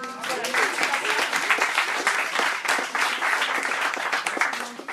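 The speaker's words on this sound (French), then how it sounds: "on peut les applaudir" A small gathering in Le Havre claps for the association's bureau during a live-streamed meeting, a brief patter of applause mixed with overlapping voices and chatter throughout.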